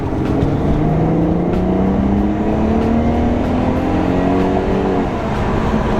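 A 12-year-old Volkswagen Passat VR6 engine revs up steadily as it accelerates, its pitch climbing over several seconds under a continuous road rumble.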